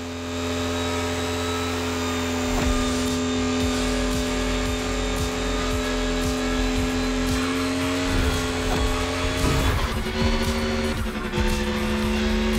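Mercedes race car in The Crew Motorfest, a continuous loud engine drone with steady harmonic tones, shifting pitch around the ten-second mark as the car changes gear, with faint tire noise.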